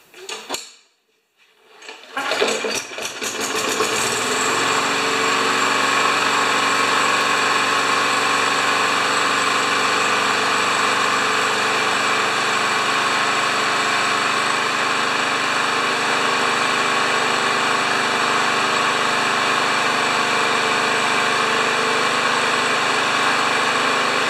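Yard Machines lawn mower engine, covered in oil, catching after a few sputters and settling into a loud, steady close-up running drone that holds for about twenty seconds.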